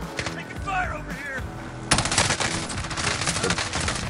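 Dense automatic gunfire in a Warzone firefight, loud bursts swelling after a brief lull and rattling on continuously, with a voice and game noise underneath.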